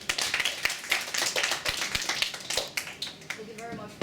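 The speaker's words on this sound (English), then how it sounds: "please give your applause and warmest welcome to all of our speakers" An audience claps to welcome speakers at the opening of a talk on artificial intelligence, a thin but steady burst of individual handclaps close by, uneven and fading toward the end, with some talking mixed in.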